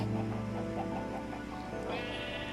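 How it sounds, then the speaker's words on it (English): Minecraft cows low in a video game, drawn-out droning moos that blend and overlap, close and steady with a brief higher tone near the end. "Here we've got my cows. Little sweeties."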